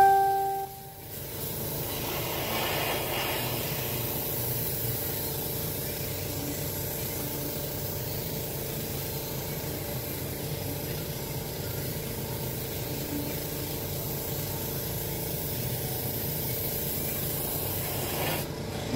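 Close, steady hiss of an airbrush misting paint onto rivets, with a brief break near the start and then continuous spraying for the rest, no talking.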